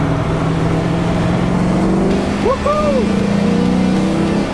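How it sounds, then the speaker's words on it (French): A loud Ultima GTR sports car engine warming up drones steadily on the road, its pitch rising and falling as it revs, while a person whoops briefly over it. "On laisse chauffer un peu le moteur parce qu'il a besoin."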